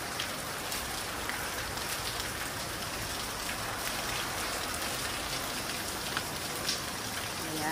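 Steady rain falling in the Philippines, a dense continuous patter of drops on surfaces with no voices, even and unbroken throughout.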